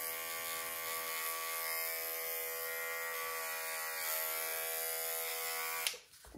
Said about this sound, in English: I'll shave out just in front of the bulb of the ear.